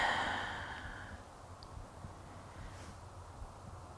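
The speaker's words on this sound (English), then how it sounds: "take a deep breath in. Exhale to relax the shoulders." A soft, close breath is drawn in and let out at the start of a quiet yoga session, fading into near silence with faint room noise.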